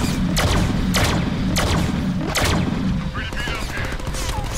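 Gunfire in the Deadpool video game comes as four loud, punchy bursts of shots spaced under a second apart, followed by quieter, scattered game effects.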